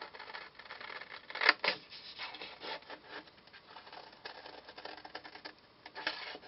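A paper card pattern for a New Year's Eve card is cut out with a series of close, dry scraping and snipping strokes, one sharper cut standing out partway through.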